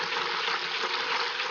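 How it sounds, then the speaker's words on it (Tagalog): Steady continuous rush of water being poured from a tap or container into a basin for hand-washing clothes with homemade laundry detergent, close and even with no pauses or talk. "maglagay tayo ng tubig"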